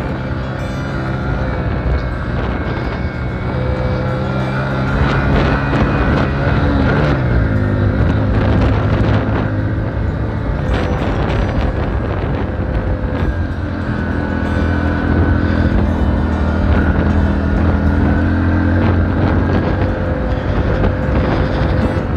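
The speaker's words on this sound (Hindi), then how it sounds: "अभी मैं दो नंबर लगाकर फुल रेस खींच के जा रहा हूं।" A Hero HF Deluxe motorcycle revs hard at full throttle in second gear on an off-road trail, its loud, steady engine drone rising and falling in pitch with wind rushing past throughout.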